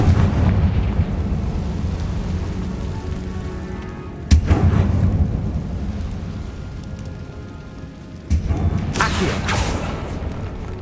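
In the video game Hogwarts Legacy, two Confringo fire spell blasts strike in a tomb, each a sharp, loud burst followed by a rumbling decay, set several seconds apart over a steady low drone.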